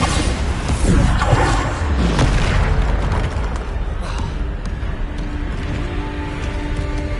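Bombarda spell blasts in the video game Hogwarts Legacy, a loud, dense booming explosion that swells and rumbles at the start, then trails into a long crackling, mechanical wash of debris and effects.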